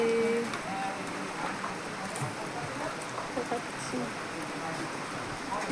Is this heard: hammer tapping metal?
no